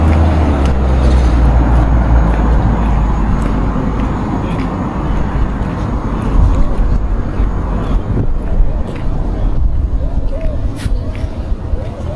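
Steady, loud road traffic and bus engines rumble near a bus park in Ocho Rios, Jamaica, with a continuous low drone and passing vehicles beneath background chatter.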